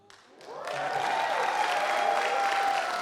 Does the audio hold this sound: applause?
yes